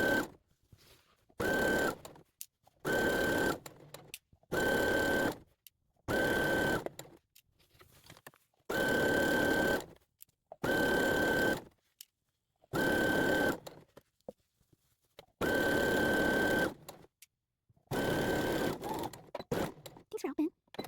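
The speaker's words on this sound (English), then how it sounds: "Okay, let's get back to sewing." A sewing machine, fitted with a twin needle, stitches a shirt in a dozen or so close, steady bursts of whirring, each lasting a second or two, separated by short pauses.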